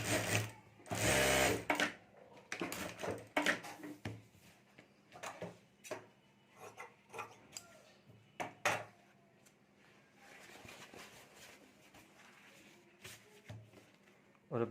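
A sewing machine stitches the top lining of a homemade mobile cover sling bag with a zip, running in short uneven bursts with pauses and handling clicks, quiet and close.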